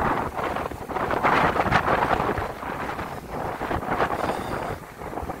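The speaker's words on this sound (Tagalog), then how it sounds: "malakas ang hangin" Strong gusting typhoon wind by the sea buffets the microphone in loud, surging waves, with a rushing roar that rises and falls and no talking.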